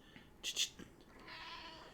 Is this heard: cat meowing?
yes